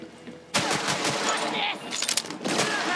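Video game gunfire from Borderlands 3, a dense burst of rapid shots starting abruptly and continuing loud and close with a brief dip before resuming, mixed with game effects.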